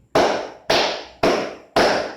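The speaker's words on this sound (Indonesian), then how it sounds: "tepuk empat kali" A group claps in unison four times at an even pace, each sharp burst near and loud with a short decay and no talking between.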